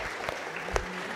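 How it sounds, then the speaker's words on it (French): Applause from a convention panel audience, a short, fairly quiet patter of clapping over a room's murmur, with a few sharper claps standing out. "Applaudissements pour Monopost."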